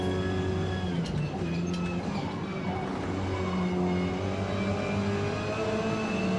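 An Audi race car engine in Forza Motorsport holds a steady, loud, droning tone with sustained harmonic whine that shifts slightly in pitch, alone with no talk.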